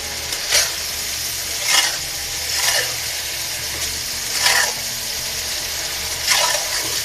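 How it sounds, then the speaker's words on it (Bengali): Fish frying with spices in a pan, stirred in slow separate scrapes about once a second over a steady sizzle, close and fairly loud. "এবার একটু নাড়ায় নেব, যেহেতু মশলাটা মাছের মধ্যে ঢুকুক।"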